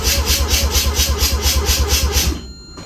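A 1985 GSL RX7 rotary engine cranks for a compression test with the ignition disengaged and air filter on, giving about ten even, rapid starter-driven pulses up close before cutting off abruptly.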